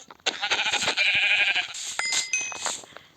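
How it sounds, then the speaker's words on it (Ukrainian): Sheep in a survival video game, bleating loudly and close in a few overlapping cries, with faint clinking sounds between them. "О, вівця."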